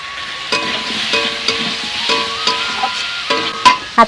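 Pointed gourd and potatoes fry with spices in oil, a steady soft sizzle broken by a few sharp spatula scrapes and clinks against the pan, with no speech.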